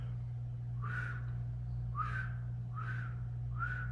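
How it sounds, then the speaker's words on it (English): Four short whistled notes from one person, evenly spaced and sliding slightly in pitch, clear and close over a steady low electrical hum. "I'm whistling."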